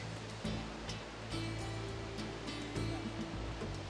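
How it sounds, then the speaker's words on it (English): A Himalayan river roars through a narrow valley as a steady, dense rushing wash of water, constant and full, with no voices heard. "The narrow valley is so full of the river's roar."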